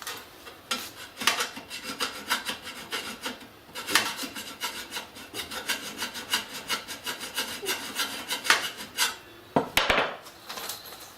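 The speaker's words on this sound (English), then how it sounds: "First one, clean it from on the side with a file." Repeated rasping strokes of a metal file against the side of a battery bay, a steady back-and-forth rhythm of scraping passes, close and fairly loud, with a brief pause and a sharper clatter near the end.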